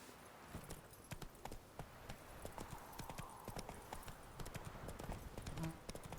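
Horse hooves clip-clop steadily in The Witcher 3, a quick even gait of close, crisp hoofbeats over a soft outdoor ambience, with a brief snort near the end.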